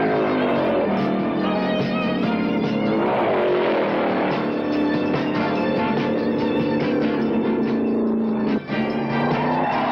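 A car engine strains and accelerates in a chase, a continuous loud, rough motor drone with shifting pitch sustained throughout, heard alone without talk.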